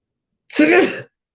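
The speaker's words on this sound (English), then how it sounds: "I got the sneeze." A single sharp sneeze bursts out close by, short and breathy, surrounded by silence.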